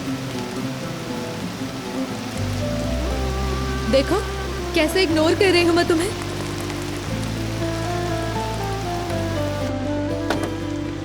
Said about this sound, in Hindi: जरा एक नजर देखो, बारिश कितनी तेज है यार